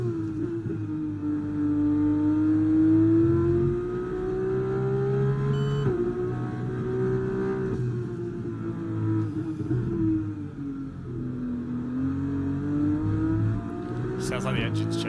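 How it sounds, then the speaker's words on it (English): A steady race car engine drone in the video game F1 24 hums low throughout, rising and falling in pitch as it revs, with talk over it. "I can like hear the car in the back of my head."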